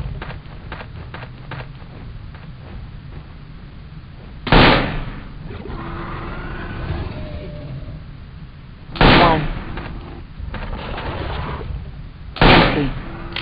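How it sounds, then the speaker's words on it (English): Three loud rifle shots ring out in Jurassic Park Trespasser, spaced several seconds apart over a low ambient game background, each a sharp broadband crack with a short decay. "Three shots."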